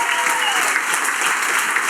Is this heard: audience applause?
yes